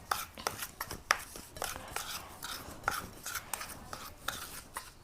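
A paste of coal, oil and lemon being stirred in a small vessel, quick repeated scraping and clinking strokes in an uneven rhythm, fairly quiet and close, with no talking.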